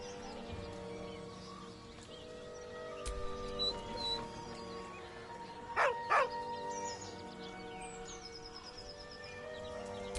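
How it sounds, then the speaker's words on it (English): A dog in a video game gives a short whine, two brief high cries in the middle over a soft, steady game ambience. "With a deep, heartbroken whine, the dog bows his head."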